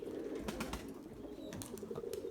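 Purebred Erzurum white breeding pigeons coo softly in a loft, a low continuous murmur of cooing under steady background noise, with faint chirps mixed in.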